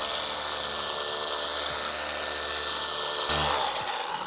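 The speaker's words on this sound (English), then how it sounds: "we're just going to go dry sanding it, which will be more aggressive than wet sanding it" Headlight lens being dry sanded with 1500-grit sandpaper: a steady, close rasping hiss with a constant mechanical whine beneath it, briefly louder and rougher near the end.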